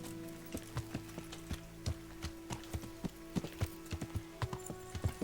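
Horse hooves clip-clop at a steady walking rhythm in the video game Kingdom Come Deliverance: evenly spaced, fairly quiet knocks that continue throughout with no talking.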